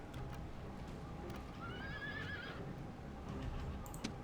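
A horse neighs once in the video game Rome: Total War, a rising, wavering whinny over a constant low rumble of battle noise and distant clatter.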